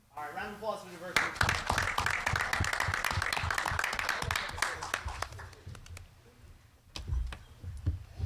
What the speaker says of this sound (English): round of applause for diversity